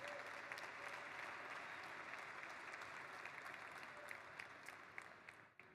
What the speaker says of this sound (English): So maybe we can give a round of applause just to the MultiversX ecosystem.